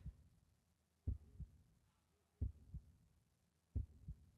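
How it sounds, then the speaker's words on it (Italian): A heartbeat thumps in the background of the Sally Face video game, three double beats spaced about 1.3 seconds apart, low and muffled against a quiet ambient hum, with no talk. "Sento un battito di sottofondo"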